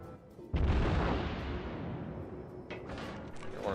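A heavy naval gun salvo from a battleship in the World of Warships game, a loud booming blast that rolls on and decays over a few seconds, with a second rumble starting up near the end.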